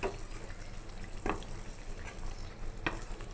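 Meat for tehari sizzles gently in oil in a pan over low heat, a steady soft crackle with a couple of brief stirring scrapes, close and without talk.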